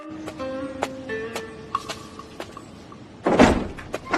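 A temple door opening in an animated telling of Journey to the West: soft wooden knocks and creaks, then a louder swinging rush near the end, close and alone without speech.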